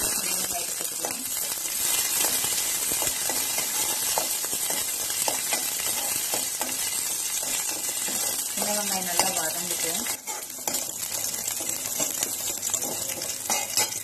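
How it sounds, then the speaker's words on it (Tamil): Mustard seeds spluttering and crackling in hot oil for a Tamil-style greens dosa tempering, a steady bright sizzle with scattered pops throughout, close by, with brief stirring and utensil clinks and no talk. "கடுகு பொரியட்டும்"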